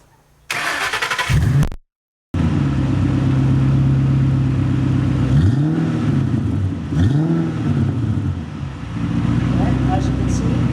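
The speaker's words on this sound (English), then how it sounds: "Let's start it up and see how it sounds." Ford Mustang GT500 V8 with electric exhaust cutouts cranks over and fires, then settles into a loud, steady rumbling idle with a couple of brief revs rising and falling; a short blip of sound comes before the start.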